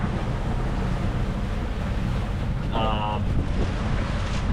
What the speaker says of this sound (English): It's pretty strong winds.